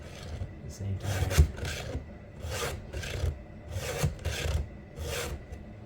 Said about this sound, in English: this sharpener's great. It takes down the raker at the same time